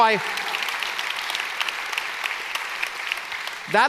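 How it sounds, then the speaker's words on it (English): A room full of people applauding steadily, a dense crackle of clapping that continues throughout before a voice returns at the end. "you can applaud to that"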